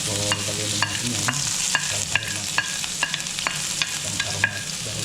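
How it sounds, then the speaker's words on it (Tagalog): Chopped ginger and garlic stir-fried in a pan for beef broccoli, with a steady sizzle and repeated sharp scraping strokes of a utensil against the pan, close and alone without talk. "Lagyan na natin mga aromatics. Yung mga chop, yung mga ginger, tsaka bawang."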